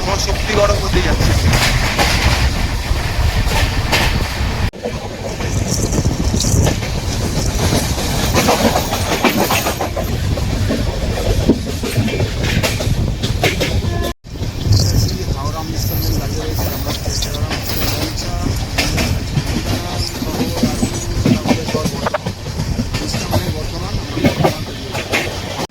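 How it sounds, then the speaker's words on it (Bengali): A moving passenger train runs on the rails near Mashagram in West Bengal, India. Its steady loud rumble carries rhythmic clickety-clack wheel beats for the whole stretch, with a brief dip partway through. "বাট ট্রেন চলছে এই মুহূর্তে মশাগ্রামের ওপর থেকে।"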